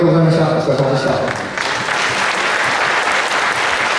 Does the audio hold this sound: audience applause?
yes